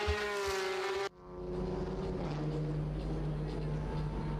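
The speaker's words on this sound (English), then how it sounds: "Wouter Mandveld going over the line in his Porsche Cup car through the Erste Links" A Porsche Cup race car crosses the line at Circuit Zolder, its loud engine note cutting off abruptly as it passes, followed by a lower, steady drone of the car moving away.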